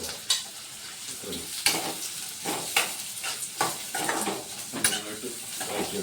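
Onions frying in oil in a pan for a fish masala roast, sizzling loudly up close and broken by repeated sharp spatula scrapes and clinks against the pan.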